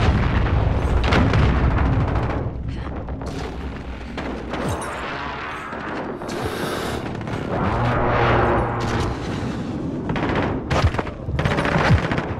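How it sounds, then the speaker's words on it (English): Precision airstrike explosions in Call of Duty: Modern Warfare, a dense, loud rumble of booms and gunfire blending together over several seconds, with sharp bursts scattered throughout. "Be advised, friendly precision airstrike."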